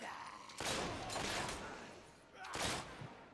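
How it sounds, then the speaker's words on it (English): Enemy gunfire in Fable 3 comes as two separate bursts of shots, one lasting about a second and a shorter one later, over a low background. "The sucker's shooting at us. Of course I'm shooting."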